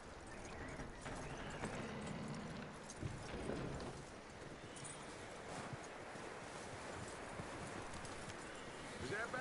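Horse hooves clop steadily over a noisy outdoor background in Red Dead Redemption 2, with a few louder thumps along the way.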